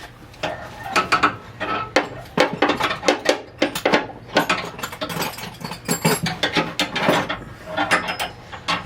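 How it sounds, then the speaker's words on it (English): A 12mm socket wrench ratchets a bolt while a B&W underbed gooseneck hitch is fitted to a 2021 Ford F150 PowerBoost, giving rapid clicking bursts in an uneven, repeated rhythm, close and fairly loud. "Need a 12mm wrench and socket if you can find one, Antonio."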